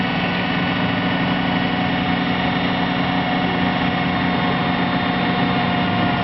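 A homemade free energy machine runs with no gears touching, giving a steady close mechanical hum that drifts slightly faster and slower throughout, with no talk over it.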